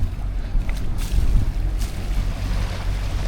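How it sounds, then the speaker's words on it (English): Low, steady engine rumble of a motorboat running two motors on open water, with wind buffeting and water slapping against the hull. "At the moment we're running 2 motors."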